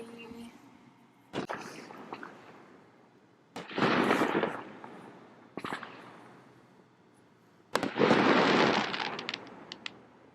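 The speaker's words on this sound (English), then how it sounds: "That's the fireworks." Fireworks pop with sharp bangs, each followed by a long crackling burst, several times over, loud and echoing outdoors.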